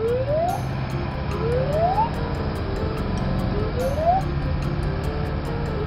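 Fire engine siren from a toy vehicle, rising wails repeating about three times over a steady background hum, fairly close and continuous with no talk.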